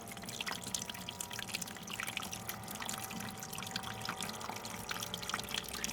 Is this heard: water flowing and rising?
yes